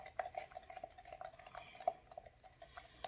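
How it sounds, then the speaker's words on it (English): Wooden stick stirring two-part resin in a cup, a series of faint scraping taps and knocks against the cup wall at an uneven rhythm, close up and quiet with no talking. "Grab another stick and then give it another stir."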